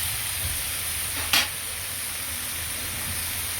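Ground spice paste hits a hot pan with a short sharp burst, then settles into a steady, even sizzle. The pan holds a prawn and mixed-vegetable drumstick dish.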